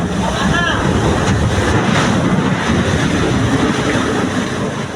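A water cannon blast drives water over and into a wooden-hulled resupply ship at sea, a loud, steady roar of rushing spray and wind noise that fills the whole stretch.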